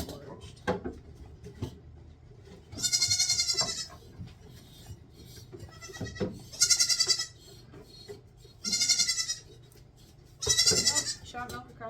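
Several loud, wavering bleats from a goat being milked on a homestead, four distinct calls spaced a few seconds apart, with someone talking softly and some handling noises between them.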